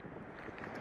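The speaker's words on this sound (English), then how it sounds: "Whoa, it's windy." Wind on a handheld microphone outdoors makes a soft, even low rumble with no voices over it.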